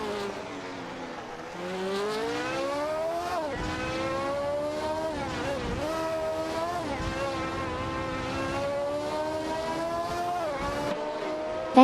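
Race cars in an AI-driven racing video game whine past in a continuous engine drone, the pitch climbing through each gear and then dropping at the shifts, loud and steady throughout.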